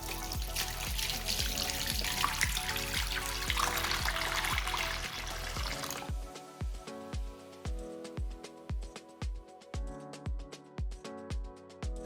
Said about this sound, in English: I'm gonna start the timer and start filling up the water